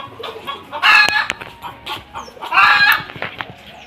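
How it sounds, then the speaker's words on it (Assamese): Household chickens kept in a covered cage at home cluck close by in bursts, with two louder squawking calls between softer scattered clucks. "এয়া খাঁচাৰ ভিতৰত ঢাকি থৈছোঁ মুৰ্গী, আমাৰ ঘৰৰে মুৰ্গী"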